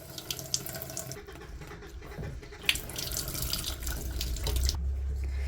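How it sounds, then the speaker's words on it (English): Tap water runs steadily into a sink while a lion's mane mushroom is rinsed under it, a continuous close splashing flow with small irregular spatters and no talking. "so I'd much rather rinse it off"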